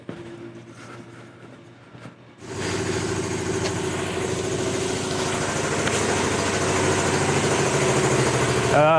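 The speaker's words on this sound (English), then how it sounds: "Stupid compressors, they always got to turn on at the wrong freaking time." An air compressor kicks on near a Hyundai Tucson with a misfire, its steady loud mechanical drone starting a couple of seconds in and running continuously over the engine's idle.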